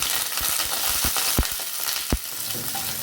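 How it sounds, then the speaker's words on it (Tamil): Onion and curry leaves fry in hot oil, a steady close sizzle broken by a few sharp stirring scrapes and pops of the spoon against the pan. "ஒரு பெரிய வெங்காயமும் கொஞ்சமாக கருவேப்பிலையும் சேர்த்துக்கலாம்"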